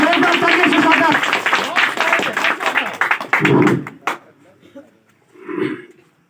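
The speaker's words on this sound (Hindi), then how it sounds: "जोरदार तालियों से स्वागत।" Loud, dense clapping from a village meeting crowd in Chain Kheda welcoming Bhola Bhaiya, sustained for a few seconds before breaking off into scattered quieter sounds.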